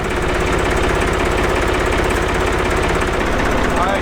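A tractor engine strains while pulling a 440 engine out of a 1974 Dodge Challenger under restoration, giving a loud, steady, close-up chugging rumble that does not let up.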